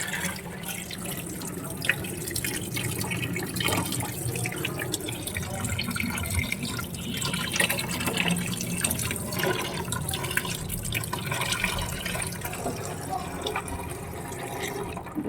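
Water runs and drips continuously off freshly washed pabda fish, a fairly faint, steady trickling and splashing close by, with talk mixed in.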